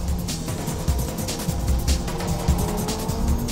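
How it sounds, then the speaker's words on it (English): Turbocharged race cars, including a Lancer, accelerate uphill on a track, their engines giving a steady, busy roar with rising revs and a hint of tire noise. No one speaks. "Boy, turbos are fast going uphill."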